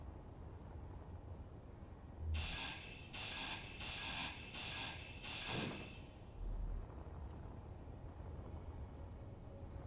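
A grinder tool is at work while a missile destroyer is being built, cutting in as five evenly spaced, harsh grinding bursts over a low, steady rumble before fading back to the background drone.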